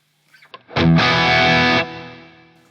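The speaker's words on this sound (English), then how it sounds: "if you turn the blend right up, you get that that pedal sound, which is great" A distorted electric guitar chord through a Dophix Michelangelo overdrive pedal rings out loud and sustained after a couple of quick plucked notes, then cuts off into a fading tail.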